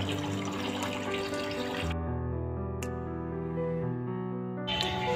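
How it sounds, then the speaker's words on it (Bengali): Tap water runs into a sink as fish is washed, a steady splashing flow that cuts off partway through, leaving faint drips and clinks before running again briefly at the end. "আমি মাছটা ধুয়ে নিই।"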